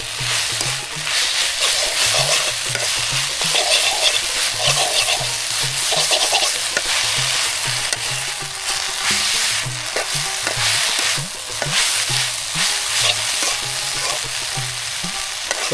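Sweet potato greens frying in a pan on a clay stove fired with jute sticks, stirred in a steady rhythm of scraping strokes over a constant close sizzle, with no talking.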